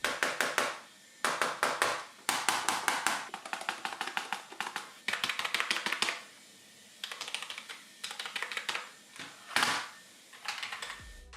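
Rapid typing on a cheap, hollow-sounding plastic budget gaming keyboard, bursts of clacky keystrokes separated by short pauses, close and fairly loud.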